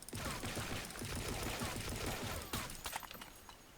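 Short bursts of tapped rifle fire in the shooter game Blackshot, a fast irregular rattle of shots close up that thins toward the end, with no voices.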